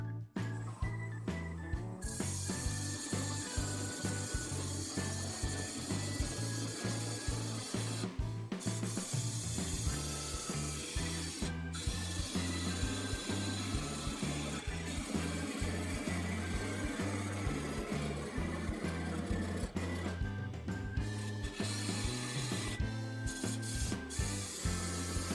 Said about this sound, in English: the parting tool is making a real mess of it